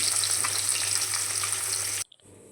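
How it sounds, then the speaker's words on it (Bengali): Katla fish fries in hot oil with a loud, dense, continuous sizzle that cuts off abruptly near the end, leaving a few faint clinks. "মাছটা ভেজে নিচ্ছি"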